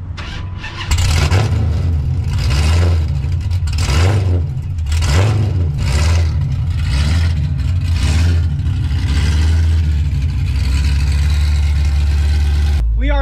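A Mopar car's engine fires up and settles into a loud, rumbling idle with rhythmic pulsing, heard close, with people talking over it.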